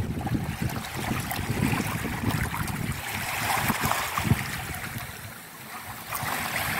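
Broad, steady wash of waves on a wide seashore at low tide, continuous and fairly close, with no voices over it.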